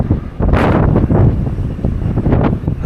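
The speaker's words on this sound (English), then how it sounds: "at the Dalsnibba Geirangerfjord Skywalk, and it's flipping windy" Strong gusts buffet the microphone at the Dalsnibba Geirangerfjord Skywalk in Norway, a loud, continuous roar that swells and pulses throughout.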